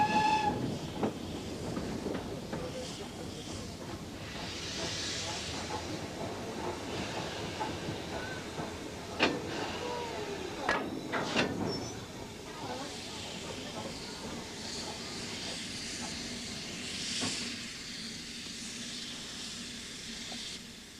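A steam train at Cranmore, Somerset hisses and rumbles steadily, with louder bursts of steam or clanking around the middle and a faint whistle-like tone; the sound stays moderately close throughout.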